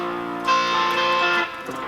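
Distorted electric guitar chord ringing loud and close for about a second, dense and buzzy, then choked off, played alone.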